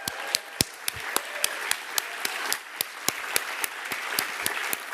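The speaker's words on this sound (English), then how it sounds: "We should all give them a very, very big round of applause." An audience at a Serpentine arts event gives a round of applause, a steady wash of clapping with a few sharp nearby claps standing out, sustained throughout.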